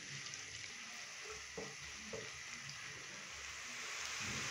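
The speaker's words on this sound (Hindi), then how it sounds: "प्याज डालने के बाद प्याज को हम लाइट ब्राउन होने तक फ्राई करेंगे।" Finely chopped onions fry in oil in a pan for a dhaba-style mixed vegetable sabzi, giving a steady, fairly quiet sizzle and crackle throughout, with occasional soft stirring clicks and no talking.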